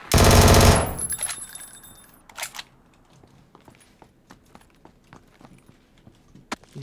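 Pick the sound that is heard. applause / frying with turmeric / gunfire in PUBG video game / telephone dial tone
gunfire in PUBG video game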